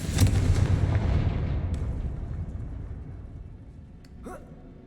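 Confringo blasting spell explosion in Hogwarts Legacy, a loud booming burst that rumbles and slowly fades over several seconds, with a brief faint sound near the end.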